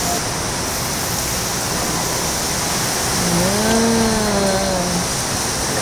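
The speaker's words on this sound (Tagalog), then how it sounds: "Tinatakal niya po talaga ang tubig." Water pours into a pan while cooking pancit bihon guisado, a loud continuous rushing splash with a rising tonal note as the pan fills.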